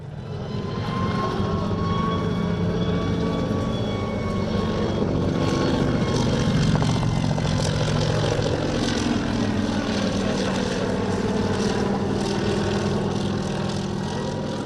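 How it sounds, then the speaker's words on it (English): A crop-spraying helicopter with a single underpowered single-shaft engine flies at an airshow in Romania, giving a continuous, steady engine drone at moderate distance with no talk. "The helicopter is powered by one single-shaft engine, which makes it quite underpowered"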